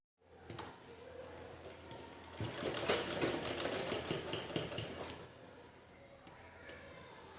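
A sewing machine stitching a cloth dress top, quiet rapid mechanical whirring that speeds into a steady run for a few seconds and then trails off.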